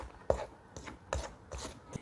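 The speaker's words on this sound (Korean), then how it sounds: "스크래퍼를 이용해서 먼저 대충 섞어주고요" Scraper blade folding flour into dough in a mixing bowl for mocha bread, four or five soft scraping knocks spaced roughly half a second apart, faint and close.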